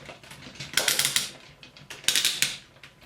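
Ratchet joint on a Transformers Metroplex toy clicking as it is folded, two rapid bursts of sharp plastic ratcheting clicks close up, with nobody speaking.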